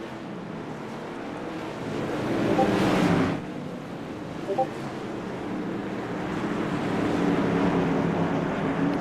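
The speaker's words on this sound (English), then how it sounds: "Listen to the awesome sound of these engines, even at idle." Race car engines idle together in the iRacing sim at Southern National Motorsports Park, making a steady low rumble that swells and fades across the field.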